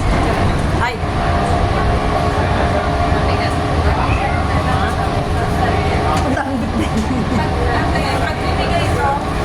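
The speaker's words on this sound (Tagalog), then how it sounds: "Nasa train na tayo." A passenger train carries riders on a trip, with a steady rumbling ride and rail noise throughout and people talking over it.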